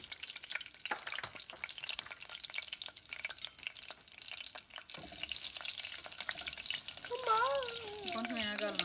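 Mustard seeds and garlic fry in hot oil for a tempering, giving a faint, steady crackle and sizzle close by, with a brief higher squeak near the end.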